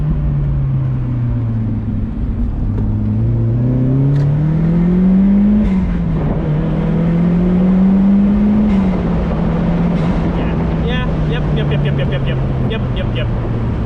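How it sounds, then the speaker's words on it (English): Mazdaspeed Miata with a turbocharged engine accelerating on a road, a loud engine note climbing and shifting in pitch through gears, with turbo whooshes and a flutter of blow-off chirps toward the end. "all the noises really of the turbo that it can produce"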